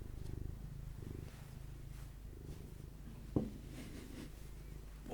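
A cat purring softly and steadily in a quiet room, a low rhythmic rumble pulsing with each breath, with a brief clunk partway through.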